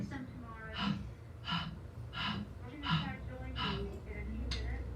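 A voice imitates a dog's panting with six or so quick, rhythmic breathy huffs, evenly spaced, close and fairly quiet.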